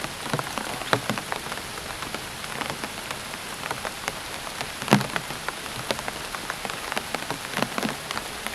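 Heavy rain pattering steadily on a surface, with scattered sharper drops striking nearby and a constant wash of noise throughout.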